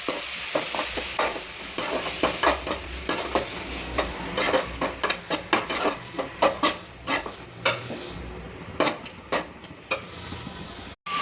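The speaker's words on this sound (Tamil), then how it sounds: "இதை போட்டு வதக்கிட்டு வெங்காயம் தக்காளி கொட்டி" Onion and tomato being sautéed in a pan for a broad bean sambar, a steady sizzle overlaid by rapid rhythmic spatula scrapes and clacks against the metal pan.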